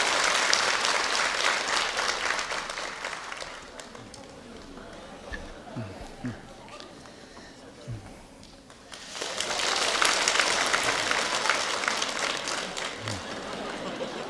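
Church congregation claps in two bursts of applause, the first tapering into a quieter stretch with faint movement and voices, then swelling again into loud, dense clapping.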